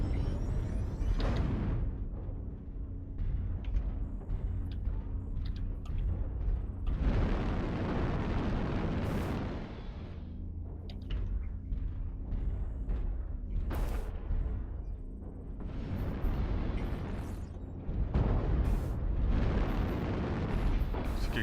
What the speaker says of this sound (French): Quelqu'un a tiré ou?